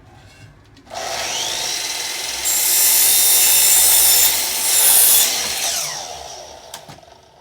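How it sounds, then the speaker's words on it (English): A power saw cuts wooden boards for a display shelf. It gives a loud, steady whine and rasp for several seconds, rises partway through, then winds down. No voices. "So I'm starting to cut my boards here,"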